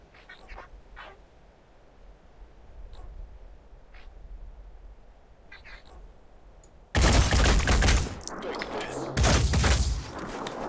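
Gunfire in the video game Phoenix Point: Terror from the Void, a sudden loud burst of shots erupting after a quiet stretch of faint ambient clicks, then continuing in harsh bursts to the end.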